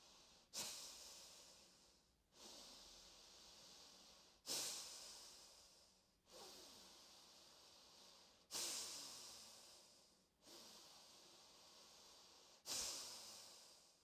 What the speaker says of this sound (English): So just allowing the inhales and the exhales to flow smoothly through each other, but making your exhale sharp and steady.